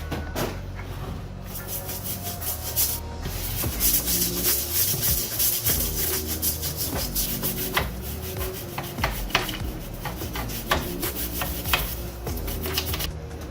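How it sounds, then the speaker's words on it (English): Degreaser is scrubbed off an engine with a nylon brush in close, continuous rubbing strokes. The bristles make an uneven, scratchy rasp with no talking. "Then we're going to use a nylon brush and scrub it and see what comes off."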